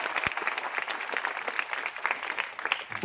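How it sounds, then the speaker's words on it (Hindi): An audience claps steadily through a motivational speech in Hindi, a dense, continuous patter of many hands at moderate distance with no talking over it. "इस पर 2 बार ताली बजनी चाहिए"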